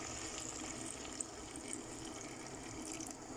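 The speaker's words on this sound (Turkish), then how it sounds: "Üzerine çok hafif geçecek şekilde su ilave ediyoruz." Water added over tomatoes laid on fresh green beans in a cooking pot, a steady soft pouring and trickling rush that runs the whole time without any talk.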